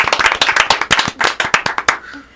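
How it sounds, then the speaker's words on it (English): A small studio audience claps for the performing duo, the individual hand claps sharp and countable, fading out near the end. "how about a round of applause for everybody for being here today?"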